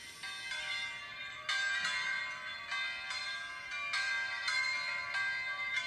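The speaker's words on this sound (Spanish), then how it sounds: "ese sonido de las campanas" Catholic church bells ring in a steady series of bright, overlapping strikes about every second, loud and close with a sustained metallic hum between peals and no talk.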